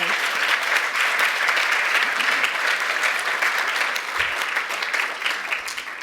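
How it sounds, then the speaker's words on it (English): Dense, continuous applause from a large audience, loud and even, fading slightly toward the end. "let's give our Nasai attendees a round of applause"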